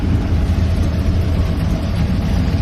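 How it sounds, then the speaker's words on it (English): Drag racing car engine at Willowbank Raceway during a nostalgia drags meet, a steady loud low rumble held throughout without talk. "Can you hear the car?"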